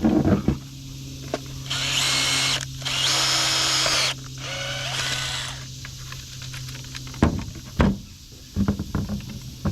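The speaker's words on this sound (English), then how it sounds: "So I'm going to drill out some spots." A power drill bores out spots while a Ghost Control dual gate opener is being installed, running in several loud whirring bursts separated by short pauses, followed by quieter clattering and handling noises close by.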